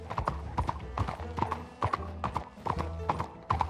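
Horse hooves clip-clopping at a steady walking rhythm in the Red Dead Redemption 2 video game, close and clear, with a brief whinny mixed in among the repeated hoof strikes.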